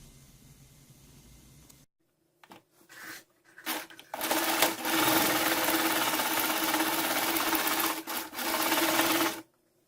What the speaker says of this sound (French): on va coudre ce bout-là, donc tout en haut en fait